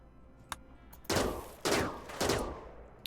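Gunfire in the video game RimWorld: a faint pop, then three loud, sharp bursts about half a second apart, each trailing off in a short decay.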